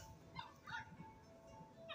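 Small puppies yip and whimper from a Clifford the Big Red Dog movie playing on a screen, a few faint high cries spread across a quiet background.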